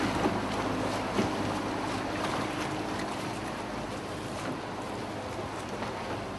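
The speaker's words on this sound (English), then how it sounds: "we could not pass up the opportunity to have our own gondola ride" Gondola gliding along a Venice canal, steady wash of water and open-air wind noise around the boat, continuous and even, with a faint knock or two near the start.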